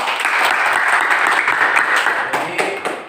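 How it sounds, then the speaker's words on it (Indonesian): A classroom audience claps during a lesson at a vocational school in Sabu Barat, loud, dense applause rising quickly and sustained evenly before tapering slightly near the end. "Jadi berikan tepuk tangan dulu."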